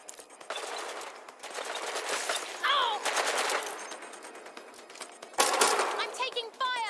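Machine gun fire in the video game Watch Dogs Legion, with rapid bursts starting and stopping across the scene and rising sharply near the end, mixed with other game effects and voices.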